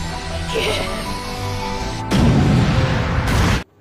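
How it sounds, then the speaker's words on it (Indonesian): A cannon fired in the anime Made in Abyss: a sustained rumbling blast that swells midway into a louder, harsher burst, then cuts off abruptly. "Rek pun langsung menyiapkan meriamnya dan menembakkannya."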